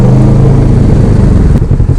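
A vehicle on a foggy rural road accelerating hard to overtake, its mid-range engine droning loud and close throughout with steady rumbling power.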